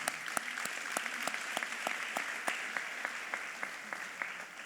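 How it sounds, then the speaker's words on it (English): Audience applause at a mayoral event marking 100 days of an administration, with sharp individual claps standing out above a steady wash of clapping throughout, moderately loud and close. "let's give them one more round of applause"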